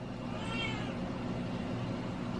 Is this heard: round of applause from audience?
no